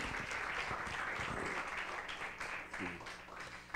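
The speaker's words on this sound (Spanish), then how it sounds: "Ese aplauso está muy pobre, ustedes, para Rubén" Church congregation at a Sunday sermon breaking into applause for a welcomed man, a thick continuous clapping from many people close by, with speech and cheers over it.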